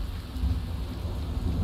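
Steady rain with a low rumbling thunder bed in the game Skyrim, a constant dense hiss of falling drops over deep rolling noise, no voices.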